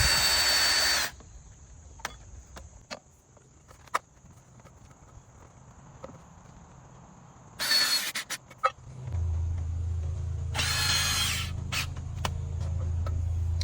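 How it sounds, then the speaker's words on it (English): Power drill driving screws into a wooden board while building a raised vegetable garden bed outdoors; a few short high-pitched bursts of drilling stand out over quiet ambience, followed by a low steady hum. "as he's screwing in, the wood may end up shifting"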